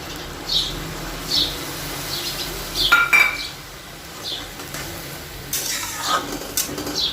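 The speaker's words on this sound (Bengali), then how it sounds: "এবার এতে আমি দিয়ে দেব টমেটো বাটা" Tomato paste fries in a pan with ginger paste and green chilli while a spoon stirs it, producing a soft steady sizzle broken by occasional light clinks of metal against the pan.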